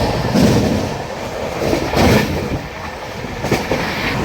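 An Amrit Bharat Express train runs through Kavali station without stopping, giving a steady rumble of wheels on rails with rhythmic clickety-clack bursts.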